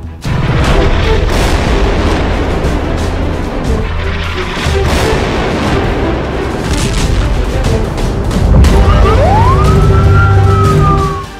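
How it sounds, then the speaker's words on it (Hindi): Loud, dense rumbling blasts and booms, with a siren rising and wailing near the end over a chaotic backdrop. "ये धमाके तो बहुत छोटे हैं, बड़ी फिल्म का छोटा सा ट्रेलर है।"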